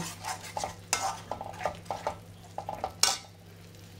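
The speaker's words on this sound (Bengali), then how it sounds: "দিয়ে আবার কিছুক্ষণ ধরে কষাবো এটা।" Duck egg biryani masala is stirred in a pot over a low flame, with repeated close scraping and clinks of a spoon against metal over a faint sizzle.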